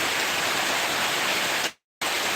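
Heavy downpour of rain, a dense steady hiss that cuts out briefly near the end before resuming at full strength.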